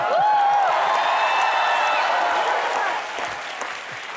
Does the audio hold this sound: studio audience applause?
yes